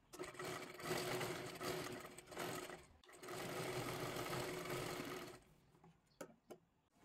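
A sewing machine runs in two long stitching bursts through sleeve fabric and lining, a steady dense whir with a brief pause between, then a quieter stretch of handling and small clicks at the end.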